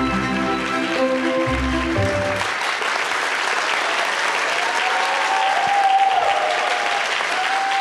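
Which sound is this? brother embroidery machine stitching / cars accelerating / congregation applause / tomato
congregation applause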